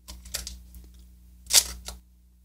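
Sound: Nikon Nikkormat SLR film camera shutter

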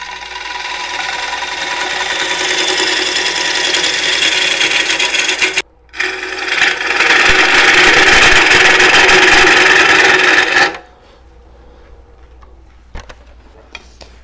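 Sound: woodturning gouge cutting inside of green wood bowl

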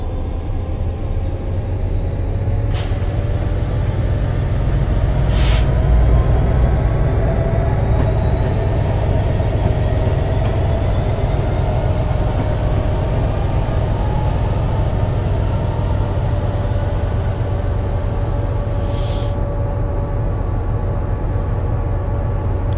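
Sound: metro train in video game

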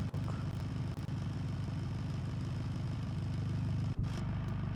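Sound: car engine of Volkswagen Tiguan in video game BeamNG.drive

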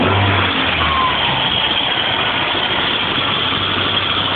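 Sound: Dodge Ram 50 engine running after start-up

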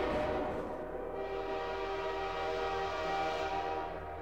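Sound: train passing in a horror video game

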